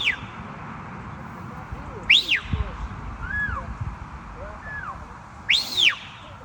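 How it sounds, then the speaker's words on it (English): A shepherd's whistle commanding a sheepdog during a herding demonstration in County Wicklow, Ireland: a few sharp, rising-and-falling whistle calls, loud and close, with fainter echoing whistles between them over outdoor ambience. "I'll send her to left with a whistle."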